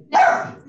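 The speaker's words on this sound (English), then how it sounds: "Sorry, that's my dog." A dog barks once, loud and close, during a virtual media briefing, with a brief bit of talk around it.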